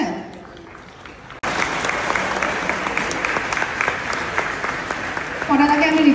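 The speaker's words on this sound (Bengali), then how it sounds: "এখানে বসা প্রত্যেকটা মেয়ের জন্য একটা জোরে হাততালি হয়ে যায়" An audience at a musical event breaks into loud, sustained applause that begins abruptly after a moment of quieter sound and carries on to the end, swelling slightly near the close.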